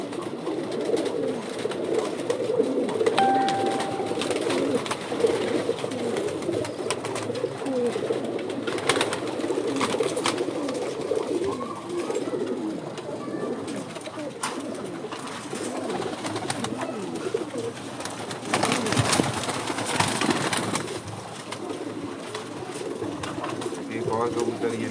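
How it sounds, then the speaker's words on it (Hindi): Pigeons kept by a fancier, cooing repeatedly in soft rolling calls close by, with someone talking at times over the birds. "देखें कबूतर, देखें आप ये,"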